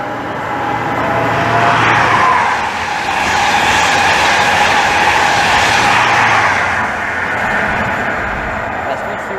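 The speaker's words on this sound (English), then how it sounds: "the 1347 Great Western Railway service from London Paddington to Bristol Temple Meads" Great Western Railway HST train heading to Bristol Temple Meads passes through Maidenhead station, a loud rushing roar with rumbling wheels that swells and fades twice over several seconds.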